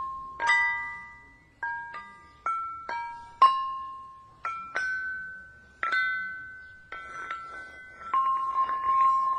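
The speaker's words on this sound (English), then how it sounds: "I can hear the chimes. Everyone else can hear the chimes." Chimes ring out in a series of clear, bright metallic strikes, each note ringing and fading before the next, with several overlapping toward the end; close and fairly loud, with no talking.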